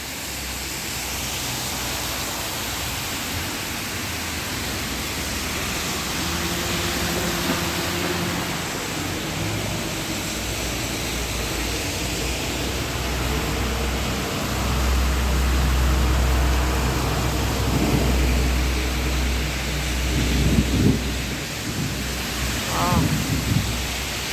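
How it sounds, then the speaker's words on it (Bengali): Heavy rain pours steadily during a Kalbaishakhi storm, a dense continuous hiss with low rumbling thunder building in the second half and a few sharper bursts near the end. "আকাশে যে বৃষ্টি, আকাশে পুরা মেঘলা, পুরা বৃষ্টি নামছে মাশাআল্লাহ। আস্তে আস্তে বৃষ্টি বাড়তেছে।"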